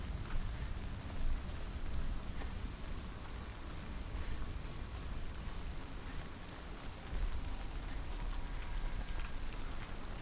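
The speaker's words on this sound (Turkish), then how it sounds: "Yağmur başladı." Steady, dense rain patter in Hellblade: Senua's Sacrifice fills the scene, a constant hiss of drops with low rumble underneath, moderately loud and unbroken throughout.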